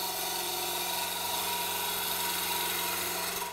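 A gouge cutting a spinning wood blank on a lathe, a steady loud whirring hum with a harsh scraping buzz layered on top, continuous and close before cutting off at the end.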